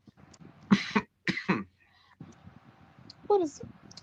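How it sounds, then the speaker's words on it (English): Two short, light coughs come close together, followed by a small throat sound and faint rustling in a quiet room. "what is such a dainty cough?"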